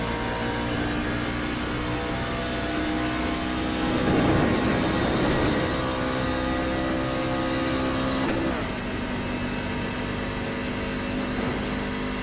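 Race car engine at Talladega Superspeedway, a steady loud drone that swells around the middle as revs build, then settles back to a constant roar.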